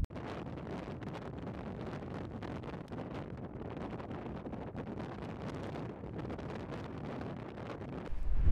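Strong wind on a golf course buffets the microphone with a loud, continuous roaring rush and gusty surges, close and unbroken for the whole stretch, with no voices.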